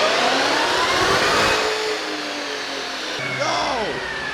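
A 2021 Dodge Charger Redeye with a supercharged V8 is run on a dyno, a loud, close engine roar and supercharger whine climbing in pitch, then dropping off as it winds down.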